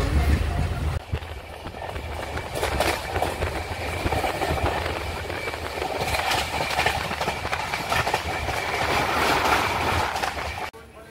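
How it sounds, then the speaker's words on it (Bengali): The Howrah to Haridwar 12369 Kumbh Express running, with a loud continuous rumble and rhythmic wheel clatter heard from inside the train and faint voices in the carriage. "আমাদের ট্রেন একদম রাইট টাইমে ছেড়ে দিয়েছে।"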